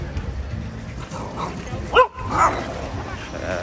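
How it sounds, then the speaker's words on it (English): Dogs barking at each other in an evening street in Puerto Vallarta, Mexico: a couple of sharp yips and barks around the middle, fairly distant, over steady crowd and town background noise. "Some dogs barking at each other."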